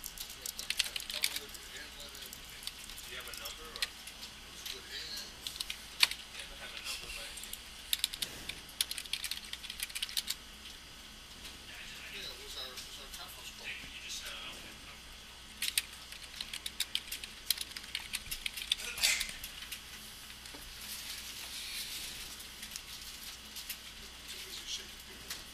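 Steady, fairly quiet typing on a computer keyboard while entering commands during a Xubuntu 12.04 setup in a VirtualBox virtual machine, with continuous key clatter throughout and a voice talking over it.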